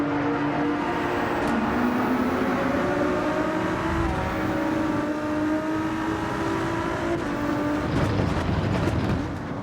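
A race car in Gran Turismo 7 slowing down, its engine note sliding steadily downward in a continuous loud drone with gear-change steps and a brief rougher burst near the end, no voices.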